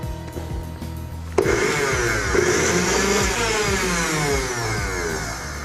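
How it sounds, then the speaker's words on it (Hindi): An electric kitchen grinder whirs loudly as it mixes a triphala powder blend, the motor starting abruptly after a moment of quieter sound and then running steadily to the end. "इसको मिक्स करने के लिए एक बार फिर से हम इसको ग्राइंड कर लेते हैं ऐसे"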